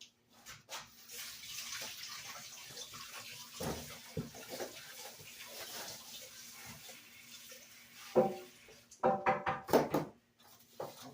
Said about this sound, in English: Put that in the sink, I'll wash it.